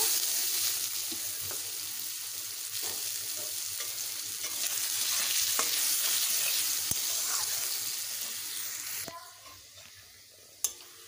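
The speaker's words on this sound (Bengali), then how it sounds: "ওই তেলেই আমি একটু বেরেস্তা বানিয়ে নেব।" Chopped onions sizzle and fry in hot oil left from frying eggs for a spicy Bengali egg curry, a steady close crackle with occasional stirring clinks and a sharp knock near the end.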